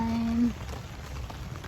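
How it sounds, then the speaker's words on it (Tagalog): Rain falls at a campsite, a soft steady patter on surfaces that continues after a brief tonal sound at the start, fairly close and without speech. "Ayan, umuulan po."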